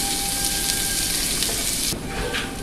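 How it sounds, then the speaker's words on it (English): Carrots sizzling in hot vegetable oil, a loud, dense, steady hiss up close that drops off sharply near the end. "right now we are going to put the carrots in"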